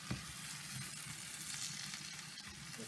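Onion frying in a pan gives a steady, close sizzle that stays even through the whole stretch, with a faint stirring scrape now and then and no one talking.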